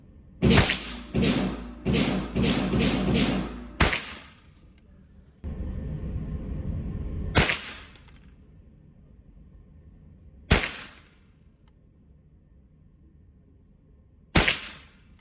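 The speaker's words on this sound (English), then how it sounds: "Let's go ahead and watch some shooting footage of this and one of my more customized 1022s" A Ruger 10/22 rifle, one of them customized, fires a quick burst of sharp, close cracks, then single shots spaced several seconds apart with quiet gaps between.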